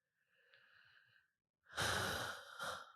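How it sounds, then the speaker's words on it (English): A deep breath taken slowly and close to the microphone: a soft, quiet inhale, a short pause, then a loud breathy exhale that trails off into a second smaller puff. "Take a nice deep breath."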